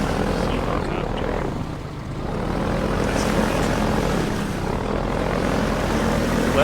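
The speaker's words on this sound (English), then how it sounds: "Let's take down that helicopter." A helicopter in the video game Half-Life 2 drones steadily with a dense rotor and engine roar that stays loud and continuous throughout, slightly dipping then swelling again.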